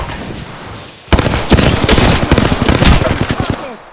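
Apex Legends gunfire kicks in abruptly after a second of quiet, a loud rapid burst of automatic shots with sharp individual cracks that taper off toward the end.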